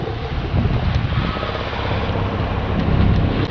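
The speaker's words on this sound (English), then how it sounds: "The wind's just swinging all over the place at the minute." Strong wind roars and buffets the microphone aboard a sailing boat at sea in the Hebrides, a loud, steady rush with no speech.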